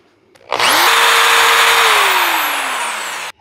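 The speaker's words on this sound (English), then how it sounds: "the first appliance we're going to try is this little SDS drill" A small SDS drill powered from a portable power station whirs up sharply and runs at a steady high-pitched whine for about three seconds, its pitch sagging slightly before it cuts off, loud and close with no talking.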